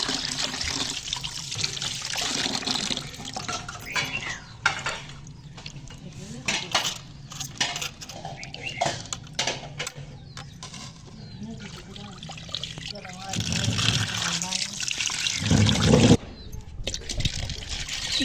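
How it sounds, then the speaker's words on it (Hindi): Lentils are rinsed in water in a kitchen pot, with trickling and sloshing water, clinks of utensils against the pot, and intermittent close splashes. "पहले जी हम इसे करेंगे वॉश, क्योंकि वॉश करना काफ़ी ज़रूरी होता है।"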